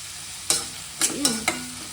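Chicken with turmeric frying in hot oil in a pan, a steady close sizzle broken by four quick scraping stirs of a spatula, no talking.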